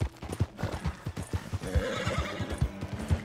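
Horse in the Red Dead Redemption 2 video game, with steady clip-clop hoofbeats at a walking rhythm and a whinny partway through, close and clear.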